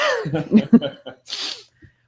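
A single sharp sneeze bursts out close by after some muffled vocal sounds, followed by a brief breathy pause.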